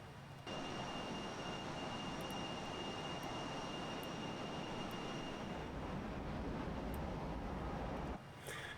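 Fokker F28 jet engines heard in a flight simulator as the throttle is eased back, a steady low roar with a faint high whine, holding evenly before dropping away near the end.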